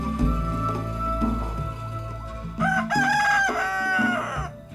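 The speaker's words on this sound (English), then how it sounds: "The roosters here crow starting at 2 in the morning." A rooster in Jamaica crows loudly and close by, its long rising call cutting through a steady low background hum.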